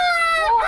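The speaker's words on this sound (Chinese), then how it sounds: "鸡叫" A chicken crowing sound effect played during a Taiwanese variety game show: one short, loud, strained squawk with a clear, slightly falling pitch, heard alone.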